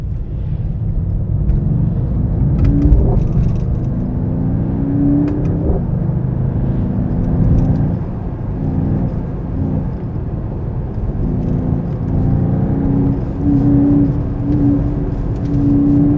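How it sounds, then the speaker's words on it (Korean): A Mercedes-AMG GT 43 4-Door with an AMG-tuned 450 engine and electric motor accelerates hard along curving roads, its engine drone heard from inside the cabin, steady and loud with rising and falling revs and no talking. "가다가 커브를 쫙 돌고 내리막에서 제동을 하다가 우회전을 미친듯이 빠르게 한번 해보도록 하겠습니다"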